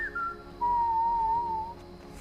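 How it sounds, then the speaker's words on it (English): A character in Skyrim Special Edition whistles a short tune alone: a brief high note, a pause, then a longer sustained, gently wavering pure tone that fades out, clear and close. "We'll have to admit, though, he's a good whistler."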